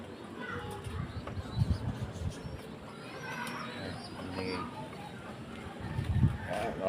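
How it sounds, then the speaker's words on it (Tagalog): Pet pigeons in a loft at feeding time, soft cooing and rustling of many birds close by, heard under someone talking casually throughout. "Tapos tayo magpakain ng ibon ni Paring Josh"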